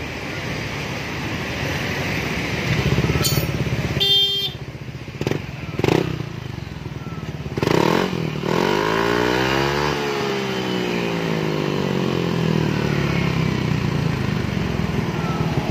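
A Yamaha Aerox scooter with a new exhaust starts up, idles and revs in a few sharp bursts before settling into a steady idle, loud and close.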